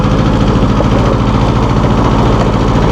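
A 1984 John Deere 650 compact tractor engine runs steadily up close, a loud, even diesel chug with a pulsing low throb and no pauses.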